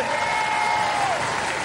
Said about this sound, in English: We'll give them a round of applause, ladies and gentlemen.